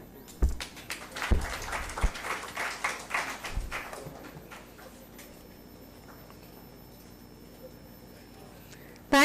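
Conference audience applauds a chairman, a burst of clapping that peaks early and fades out over several seconds into quiet room tone.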